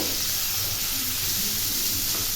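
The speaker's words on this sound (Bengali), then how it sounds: "আমি আবার এখানে পেঁয়াজগুলো দিলাম" Sliced onions drop into hot oil in a pan for a home-style soybean, potato and egg biryani, giving a steady, loud, broadband sizzle that holds without a break.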